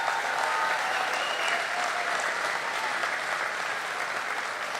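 A rally crowd in Peachtree City, Georgia, applauds a vice presidential address with dense, steady clapping that holds evenly loud from start to finish.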